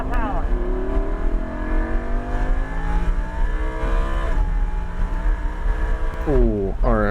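A 2014 Lamborghini Huracan accelerates hard on a race track, its engine note climbing steadily through a long sustained pull with a gear change near the end, loud and close from inside the car.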